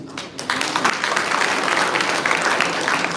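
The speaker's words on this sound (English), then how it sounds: "round applause" An audience at a Kripotsava celebration at Kripalaya bursts into applause after a brief quiet start, and the dense clapping carries on steadily and loudly to the end.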